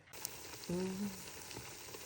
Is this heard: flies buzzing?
no